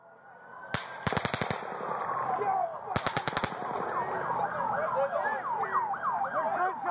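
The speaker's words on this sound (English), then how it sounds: "There's gunshots right here." Automatic gunfire rings out during the Mandalay Bay shooting in Las Vegas, several sharp rapid bursts of shots followed by wailing sirens and crowd commotion.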